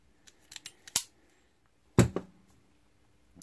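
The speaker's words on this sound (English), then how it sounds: "trim off the end of this piece of wire" Cutters snipping the end off a piece of wire used as a primary coil: a few small clicks, then a sharp snap, a quiet pause, and a second crisp cut, close and isolated.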